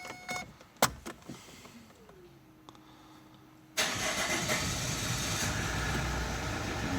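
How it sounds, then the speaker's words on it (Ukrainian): An Opel Vectra C with the Z19DTH diesel engine cranks briefly and catches, settling into a steady, loud running drone after a few seconds of faint clicks and mechanical noises. "постояла машинка, пробуємо запустити"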